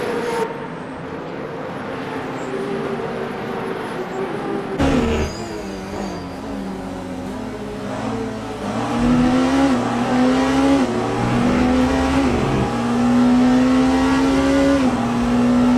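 Alpine race cars running in a sim racing endurance event at the 8 Hours of Bahrain, engines droning and rising through gears with repeated upshifts, growing louder and more sustained as the cars accelerate close by.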